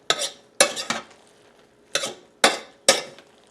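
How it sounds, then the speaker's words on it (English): A spoon stirring frozen okra in a pot, scraping around the sides in a series of sharp, close strokes, about five quick bursts with short pauses between them. "give it a good stir, make sure none of that frozen okra is still stuck in the middle"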